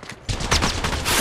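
Gunfire in Apex Legends Mobile: a loud, continuous burst of rapid shots fills the whole short moment, close and harsh, with no pause between rounds.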